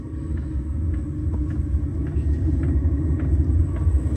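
A Chinese diesel heater running inside a Corvair car gives a low, steady rumbling drone with a faint rhythmic ticking on top, moderately loud and continuous.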